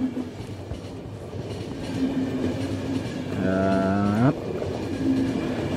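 A train in The Final Station video game runs on rails with a steady rumbling roll, and a loud sustained horn blast sounds partway through.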